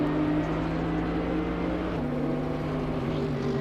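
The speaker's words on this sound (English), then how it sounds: "We hear him going up through the gears as he goes along the straight" Mercedes GT3 race car accelerating along a straight at the China GT Ningbo round, its engine note holding steady tones that step through gear changes, a continuous loud drone with no talk.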